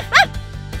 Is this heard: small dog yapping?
yes